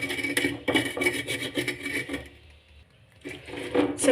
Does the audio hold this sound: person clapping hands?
no